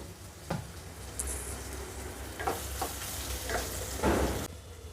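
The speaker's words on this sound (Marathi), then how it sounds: "कांदा चांगला फ्राय करून घेऊया" Onion frying in a pan makes a soft, constant sizzle, with occasional stirring scrapes and clinks and a stronger rasp near the end. No voices are heard.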